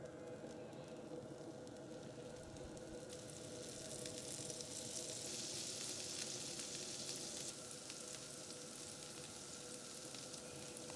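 Dosa batter frying in a little oil on a hot pan, a steady close sizzle and crackle that holds evenly throughout, with no voices.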